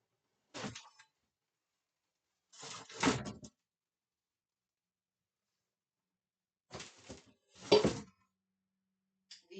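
Metal pot lids from a cookware set being handled, with four separate brief clatters and clinks, the second and last a little louder, spread across quiet pauses in a still room.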